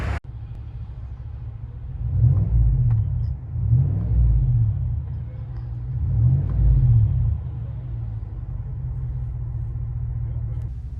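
A GMC Sierra AT4 1500 with a 6.2L V8 and Flowmaster muffler, heard from the cabin: a deep, low exhaust rumble that swells in several revving surges over a steady idle drone.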